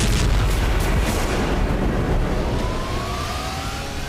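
A Russian FAB-3000 guided bomb goes off, heard as a loud, sustained rumbling roar with rolling low boom that slowly fades over several seconds.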